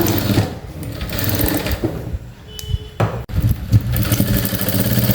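A sewing machine stitches tucks on fabric for a half-shoulder blouse, running loudly and continuously at close range with a steady mechanical whir and a brief hitch midway.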